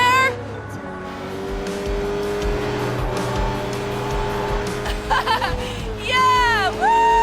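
A car driving fast in the video game Sleeping Dogs, with a sustained engine drone, scattered tire squeals and impacts, and a sharp rev that climbs and dips toward the end.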